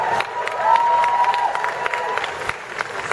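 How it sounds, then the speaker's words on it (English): Fans at a Doctor Who convention panel at San Diego Comic-Con clapping and cheering, a loud crowd roar with dense applause and some voices over it, tapering to looser scattered claps. "the sound of elderly fans clapping"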